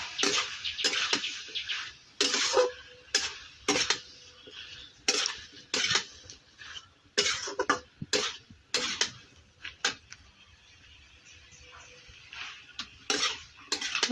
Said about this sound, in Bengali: এখন নাড়া দিব